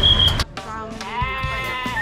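Goats bleating at a busy goat market in Purworejo or Temanggung, several wavering bleats, one sharp cry at the start and a longer quavering one after, close and fairly loud over market background noise.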